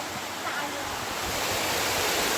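Steady, dense hiss of heavy rain, loud and continuous, swelling slightly toward the end with no voices.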